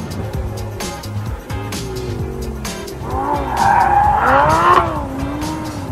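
Lamborghini Diablo with an open-gated six-speed manual gearbox driven hard on mountain passes near Bologna; the engine roars loud and close, its pitch climbing and falling through the gears.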